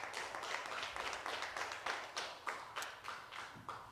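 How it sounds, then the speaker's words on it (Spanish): A church congregation on a Sunday morning claps in a faint, distant round of applause, with individual claps pulsing in a loose, rhythmic pattern. "Denle un fuerte aplauso al Señor en esta mañana."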